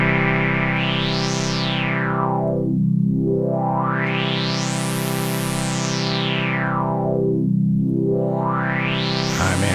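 A sustained chord on a GS Music Bree6 analog polyphonic synthesizer with its filter sweeping slowly up and down in wide arcs, bright and buzzy at the peaks, muffled at the troughs.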